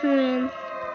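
A siren in the video game Doors sounds as a brief, steady droning tone that holds for about half a second and then fades slightly, with a voice overlapping.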